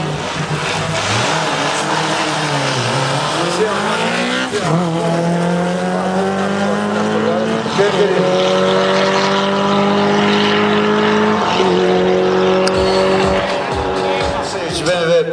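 Street race between a Suzuki Maruti 1.6 making 135 hp and a turbocharged 330 hp BMW 535, with loud engines revving and climbing through gears, pitch rising and dropping at each shift, and a commentator talking over it.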